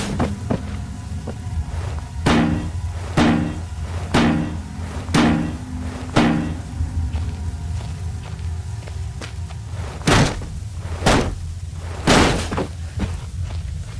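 Heavy hammer blows striking wooden barrels inside a military shelter in the game Penumbra: Overture, a run of loud, evenly spaced thuds and cracks with a few splintering smashes toward the end, no voices.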